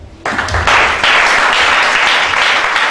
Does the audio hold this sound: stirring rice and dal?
no